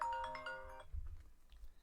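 A phone rings for an incoming call, a short electronic tone with bright repeated notes that stops after under a second, followed by low rumbling handling noise nearby.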